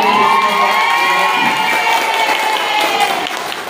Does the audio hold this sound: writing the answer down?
no